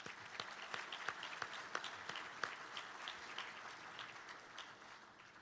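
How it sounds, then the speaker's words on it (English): An audience at a public safety awards ceremony applauds sponsors, sustained clapping from a full room that holds steady for several seconds and fades slightly at the end. "So let's give our sponsors a round of applause."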